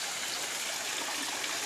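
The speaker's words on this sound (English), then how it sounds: "We've got a pond and waterfall right here" A backyard pond waterfall splashes steadily close by, a continuous even rush and trickle of flowing water with no voices over it.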